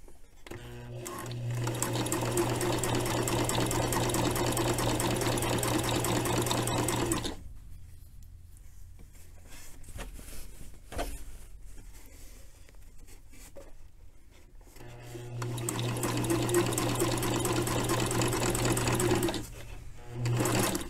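A sewing machine stitches a garment seam in two long runs of rapid, even mechanical chatter, separated by a quieter pause with light handling noises.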